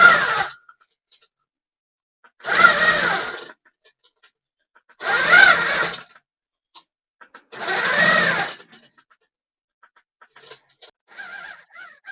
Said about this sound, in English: I'm going to hop in here and just stitch in the ditch around this